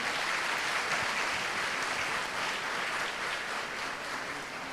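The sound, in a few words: audience applause at a convocation ceremony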